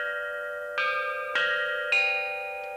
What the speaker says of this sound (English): A musician would strike the bells to play a tune.